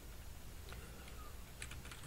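Quiet tapping of a computer keyboard as a Linux install command is typed, a few soft key clicks in a short irregular run with no talking.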